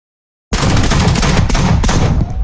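Loud, sustained machine gun fire from a gun tower in a Gaslands tabletop game, a dense rattling burst that cuts in after half a second of silence and runs unbroken to the end.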